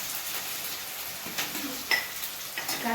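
Chopped onions hit hot oil with cloves, pepper and star anise for an egg curry, giving a soft, steady sizzle with a few sharper crackles and clinks near the end.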